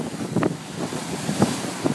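Strong wind buffets a sailing boat at sea near the Savage Islands on a passage from Lanzarote to Madeira, a loud continuous roar with gusting bumps and water rushing beneath.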